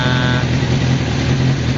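A 1998 Kawasaki Ninja ZX6R motorcycle engine that had trouble starting when hot, running steadily after a restart: a loud, continuous, close-up drone with no talk over it.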